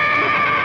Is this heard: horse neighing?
yes